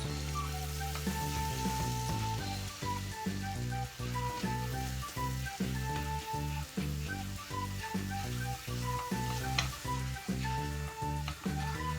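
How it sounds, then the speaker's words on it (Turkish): Flour roasting in melted butter for broccoli soup gives a soft, steady sizzle that runs through the whole stretch, partly buried under rhythmic background music with clear tones and beats. "Unumuzun kokusu çıkarana kadar tereyağında kavuruyoruz"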